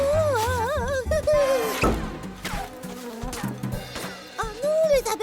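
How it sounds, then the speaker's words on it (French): Cartoon bees swarm with a wavering, rising and falling buzz over busy background music and sound effects, loud and continuous throughout. "Oh non, les abeilles!"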